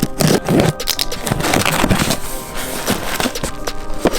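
A rusty razor blade scrapes double-sided tape off a stainless front-mount license plate in quick, close, rasping strokes, repeated unevenly with no talking.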